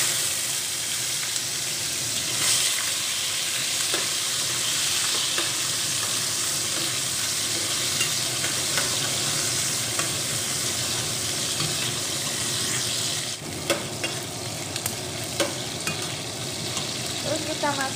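Tempeh sizzles steadily in a hot pan as a stir-fry with long beans cooks, a dense, constant frying hiss with small crackles and occasional utensil stirring, close and loud throughout.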